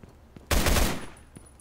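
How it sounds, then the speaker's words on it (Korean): A short burst of rapid gunfire in the video game Sudden Attack 2, loud and close, rattling for about half a second before trailing off, with faint clicks around it. "아 굳이 저 총소리를 내줄 이유가 있었나 싶은데."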